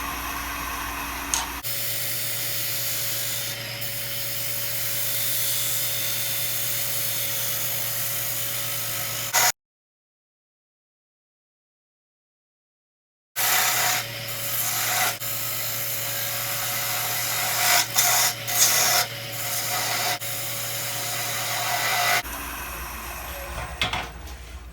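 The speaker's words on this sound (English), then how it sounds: "So let's finish shaping the outside of the cup. Just shy of 1600 RPM still." A wood lathe spins near 1600 RPM while a tool shapes the outside of a wooden goblet cup. It gives a steady whirring hum with a scraping hiss, drops to silence for a few seconds, then starts again with brief louder scraping bursts.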